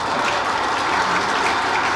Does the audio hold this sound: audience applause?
yes